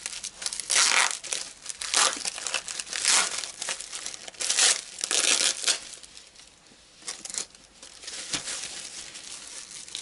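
A well-packed plastic parcel holding a drill-tap is unwrapped up close, with bursts of loud crinkling and crumpling plastic and occasional tearing, steady for several seconds, then quieter rustles with brief pauses and no talking.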